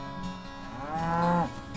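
A Black Hereford cow on a Kansas cattle ranch gives a single long, loud moo that rises and holds before cutting off, close by.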